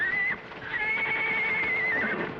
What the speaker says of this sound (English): Sounds like the horses are loose.